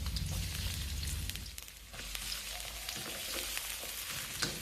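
Garlic sizzles and fries steadily in a hot pan for Thai chili-salt stir-fried shrimp, a dense continuous crackle heard close with no talking.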